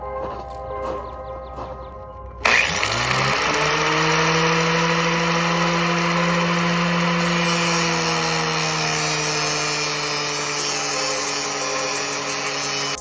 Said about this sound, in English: I'm gonna keep grinding down this socket I'm using to try and get it to fit both bearings